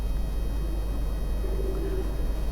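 A pigeon coos softly against steady background hiss, with a low cooing note drawn out in the second half, heard on a rooftop among kept pigeons.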